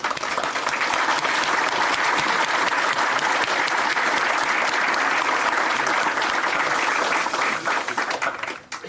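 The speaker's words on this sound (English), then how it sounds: "Please give yourselves and this special day a hearty round of applause." Sustained applause from an outdoor audience at the Poplar Forest Parkway grand opening ceremony, a dense steady clatter of many hands lasting several seconds before tapering off at the end.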